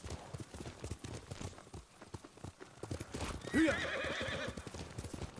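Horse hooves gallop in a steady clip-clop rhythm while riding in the game Ghost of Tsushima; a whinny rises near the middle, and someone talks over the hoofbeats throughout.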